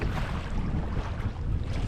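Strong wind blows while kayaking at sea, a loud, continuous roaring buffet across the microphone with churning water underneath and no talk.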